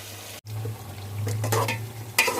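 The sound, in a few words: frying white brinjal and potatoes in a pot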